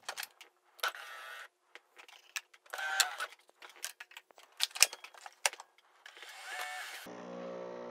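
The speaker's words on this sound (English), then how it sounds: "so while that's brewing" A Nespresso Vertuoline coffee machine brews a capsule with intermittent mechanical clicks, whirs and rattling bursts, nearby. A steadier hum sets in at the end.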